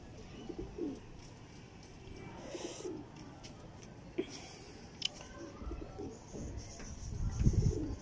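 Dub pigeons coo softly in low, repeated calls amid a quiet background with a few faint clicks, the cooing growing louder near the end.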